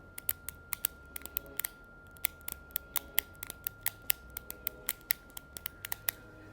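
The pop-up shoulder triggers on a Redmi K40 Gaming phone are slid in and out repeatedly, giving a rapid series of crisp, close mechanical clicks over a quiet background, irregular but steady for several seconds.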